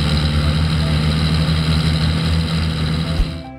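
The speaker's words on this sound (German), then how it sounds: "Nicht zu verachten ist auch der kernige Klang der drei Motoren." A steady, throaty drone of three large vintage snow-clearing machine engines running together on the Grossglockner High Alpine Road, loud and continuous, with a deep rumbling hum and no talking.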